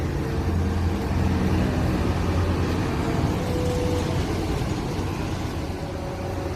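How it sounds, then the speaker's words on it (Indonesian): A bus departs from a terminal with a steady, dense engine rumble and broad roar that holds at an even level throughout. "Bus Sahalah Kamila juga berangkat dari terminal"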